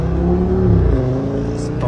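An Audi S8 with a V10 engine runs with a steady, deep, close drone, with a voice talking over it.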